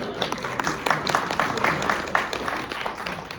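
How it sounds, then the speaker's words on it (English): Class audience breaks into steady applause, many hands clapping in a dense, continuous patter at moderate volume with no talk over it. "I normally do not allow applause during the class"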